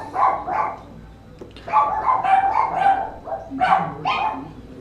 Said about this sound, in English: your dogs aren't gonna get in this, are they? I hope not. What are they barking at anyway?